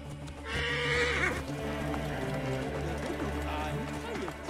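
Horse neighs in Assassin's Creed Origins, a bright whinny in the first second or so over a steady game soundscape with music and speech-like voices, then a fainter second call near the end.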